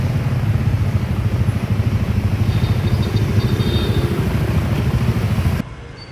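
A motorcycle taxi engine idles and putters on a Manila street, a steady close low chugging rumble that continues evenly, then the sound cuts off abruptly near the end.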